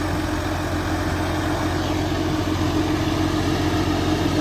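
A tractor engine fitted with a GS turbo runs steadily at idle, a loud, close, constant low rumble with no talking.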